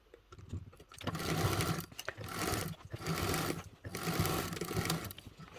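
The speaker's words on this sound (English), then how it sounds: "I'm going to take it over to the sewing machine" A sewing machine stitches a 3/8-inch seam on a bag, running in three or four close bursts of rapid mechanical whirring separated by brief pauses, with no talking.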